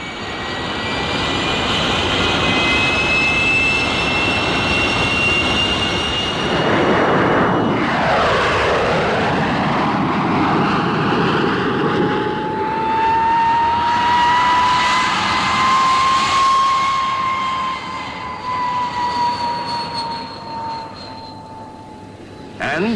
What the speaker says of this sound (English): The Meteor is faster than the Spitfire